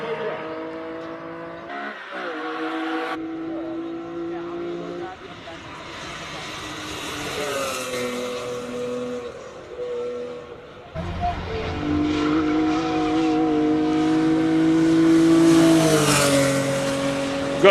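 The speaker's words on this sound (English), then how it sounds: "The V8 Cobra 5 liter in capacity 2001 model. It's a recreation of the classic Shelby Cobra." A 5-litre V8 2001 recreation of the classic Shelby Cobra races past at a classic car speed event in Cape Town, its engine note rising and falling through gear changes, then building loud and close toward the end.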